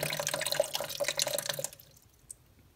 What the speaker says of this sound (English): We're still dripping a little bit.